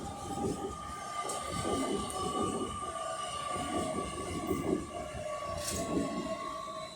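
Two British Rail Class 805 trains, 805004 and 805009, arrive at a mainline station at Rugby with a steady rumble and rhythmic wheel clatter, a high whining tone running throughout, fairly close and continuous.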